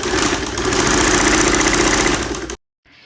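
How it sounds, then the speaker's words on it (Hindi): A sewing machine stitches fabric for a Rajputi kanchali blouse in a loud, steady motorized whir close by, running for about two and a half seconds before stopping abruptly. "इसमें क्या करेंगे, सिलाई लगाएंगे"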